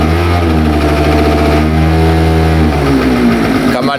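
A Pegasus Sky 50 scooter with light accident damage revs loudly up close, its small engine buzzing in a steady harmonic drone that climbs in pitch toward the end; someone speaks German over it.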